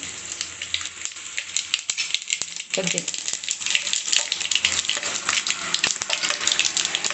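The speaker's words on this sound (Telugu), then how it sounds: "Oil heat ఎక్కిందండి. ఇప్పుడు పోపు దినుసులు వేసుకుందాము." Tempering spices crackle and sizzle in hot oil in a kadai, a continuous bright frying hiss with small pops, and a voice speaks briefly over it.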